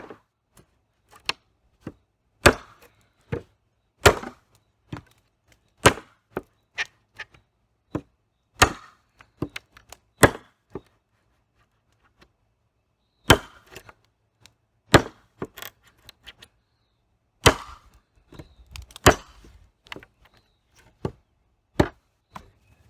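A big 3/16-inch-thick 1075 steel knife chopping into wood, about ten sharp, loud, close thwacks spaced irregularly over some twenty seconds, with near silence and a few small knocks between blows.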